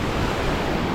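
Surf washes continuously at Anse Désert beach in Martinique, a dense, steady roar of breaking waves with some wind rush, close and loud, with no voices.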